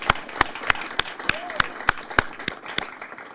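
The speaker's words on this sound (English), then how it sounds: "Can we give them a round of applause, please?" Audience clapping at a Department of Veterans Affairs Pride event: sharp, separate hand claps arriving in a steady, fairly even rhythm, with a light murmur of voices underneath.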